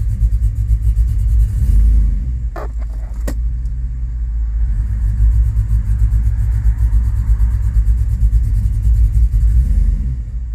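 A 2005 Chevrolet Tahoe 5.3L V8 idles rough with a misfire, a loud, deep, uneven engine rumble that runs steadily throughout, broken early by a couple of sharp metallic clicks.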